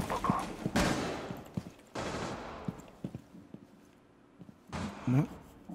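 Rapid bursts of automatic gunfire and single shots ring out in a shooter video game, loud and close, in several volleys separated by quieter gaps with scattered clicks and footsteps.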